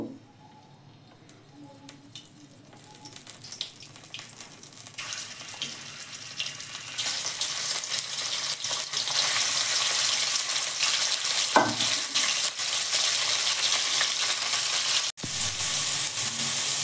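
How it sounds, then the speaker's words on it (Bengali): Chicken pieces sizzle and fry in white cooking oil in a karahi while being stirred, a quiet start swelling into a loud, steady crackle with a brief clatter near the end. "কড়াতে তেল দেব, তবে সাদা তেল। মাংসগুলো একটু মানে কাঁচা গন্ধটা যাতে মরে যায় সে একটু নেড়ে নেব।"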